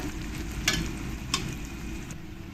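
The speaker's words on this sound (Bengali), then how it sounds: "তো দেখো পেঁয়াজটা লাল লাল কালার এসে গেছে তার মানে আমার পেঁয়াজটা ফ্রাই করা হয়ে গেছে" Onions frying slowly in butter in a pan over a medium flame for a butter mutton curry, giving a steady low sizzle with a couple of brief stirring scrapes, close and alone.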